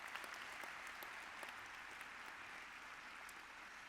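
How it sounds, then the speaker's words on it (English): Faint, distant applause fills a law school convocation hall, an even wash of clapping from a large audience with no other sounds rising above it. "Yeah, you applaud for that."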